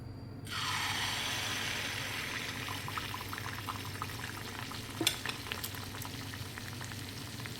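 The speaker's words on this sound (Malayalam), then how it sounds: "ഇനി നമുക്കതിലോട്ടേക്ക് അരച്ച് വെച്ച ഈ കൂട്ട് ഒഴിച്ചു കൊടുക്കാം" Ground rice batter for neyyappam poured into hot oil, a sudden loud burst of frying that settles into a steady bubbling sizzle, with a brief clink of a utensil partway through.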